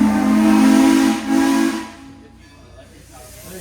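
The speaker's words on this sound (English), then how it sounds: "Today on our train we have our Baldwin steam locomotive, Baldwin number 26, built back in 1929 out of famous Baldwin locomotive works." The whistle of a 1929 Baldwin steam locomotive, No. 26, sounds as a loud steady steam blast for nearly two seconds with a brief dip, then fades into hiss and quieter background noise.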